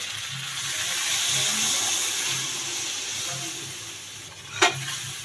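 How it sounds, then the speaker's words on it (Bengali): Water is poured into a pan of young jackfruit cooked down for biryani, giving a steady hissing sizzle and splash that runs throughout, with a brief sharp clink near the end and no talking. "এবার আমি জল দিয়ে দেবো।"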